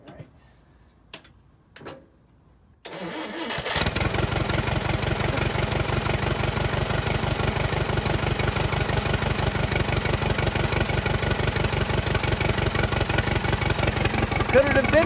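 An old Allis-Chalmers forklift engine catches after a few faint clicks and settles into a steady, loud, even idle with a rapid regular beat that runs unbroken to the end.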